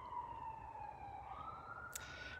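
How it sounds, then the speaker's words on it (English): A fire engine siren wails from a distance, its tone sliding down then up in a slow sweep, faint over a low background hum, with a brief bright burst near the end. "there's a siren"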